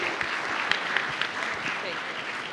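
An audience at a chamber of commerce banquet and awards ceremony applauds the 2024 graduates, a steady crackle of many hands with a few sharper claps standing out, under light talk.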